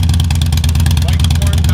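A Harley-Davidson motorcycle fitted with a ThunderMax unit rumbles loudly and close by in a deep, pulsing lope, holding steady for under two seconds.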